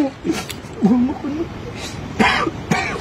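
A person coughs a few times in short bursts, mixed with throat-clearing sounds, close by with some background noise.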